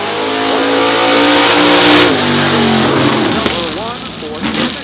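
A 1969 Chevy C10 pickup with a 565 big-block engine launches into a wheelie at a drag strip, its engine roaring loudly and close, pitch sweeping through the run as it revs, with an announcer talking over it.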